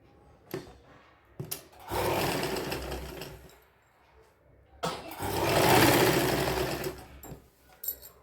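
An electric sewing machine stitches lace onto the bottom hem of a child's sharara in two long whirring bursts separated by a pause, bracketed by small clicks of handling.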